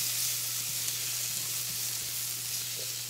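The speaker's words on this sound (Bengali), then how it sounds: "আদাটা ভেজে নেব।" Ginger sizzles in hot oil in a pan with a whole chili. A soft, steady frying hiss runs close and uninterrupted, with no voices.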